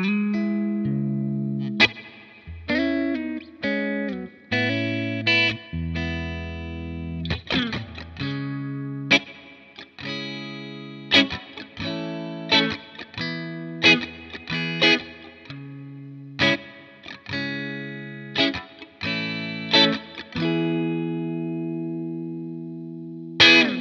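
Clean electric guitar with single-coil pickups through a Fender Deluxe amp simulation, EQ fairly flat with a slight treble lift, and spring reverb; a close melodic phrase of plucked notes and chords, some ringing out, played alone.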